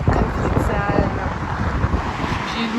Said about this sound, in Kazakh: Желдің түрі мынандай.